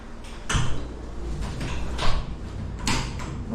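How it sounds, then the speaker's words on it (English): A door at a campervan park's toilet and shower block, with bike lockers nearby, swings and shuts, giving a few knocking clunks and latch sounds about a second apart in a small echoing room. "Lock the door."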